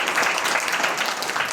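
An audience claps together at a Navaratri festival spiritual lecture, a brief, dense burst of even applause filling the hall.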